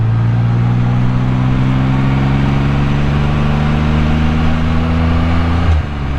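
Can-Am Spyder F3 three-wheeled motorcycle engine humming steadily while riding, tone slowly rising then dropping abruptly near the end as it downshifts, with constant wind rush throughout.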